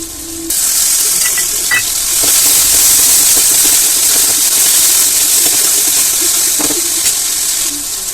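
Chopped onions and tomato hit a hot pan for a bread snack, bursting into a loud, continuous hiss of sizzling that holds steady for several seconds, with a few faint stirring knocks underneath.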